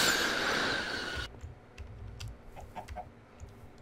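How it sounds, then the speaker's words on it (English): Chickens in Minecraft, heard as a few short, soft clucks scattered over quiet low game ambience after a loud burst of noise cuts off early on. "Found all the chickens."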